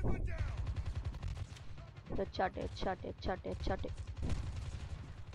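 Call of Duty Mobile team deathmatch gunfire rattles in quick bursts of shots, with a player talking loosely over the action.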